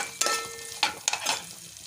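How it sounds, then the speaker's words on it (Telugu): Onions frying in hot oil for bagara rice, with bursts of sizzle and scraping as they are stirred, close and loud with no talking. "కాబట్టి మనం ఈ ఆనియన్ అయితే కాసేపు ఎక్కువసేపు అయితే వేగించుకోవాలి ఆయిల్లో."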